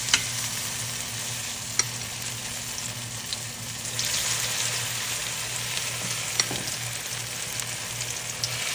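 Squash patty batter fries in hot grease with a steady, close crackling sizzle that stays even throughout, broken by a few faint pops and clinks.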